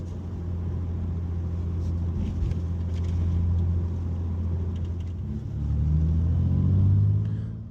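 A car drives along a road in Germany, heard from inside as a continuous low engine and road rumble, with the pitch rising as the engine picks up toward the end.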